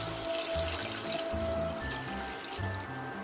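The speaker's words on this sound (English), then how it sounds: "I'm using 1 liter of vegetable stock and 1 liter of water in there" Vegetable stock and water pour into a pot of bean soup, a steady splashing, gurgling stream heard close up with no talk.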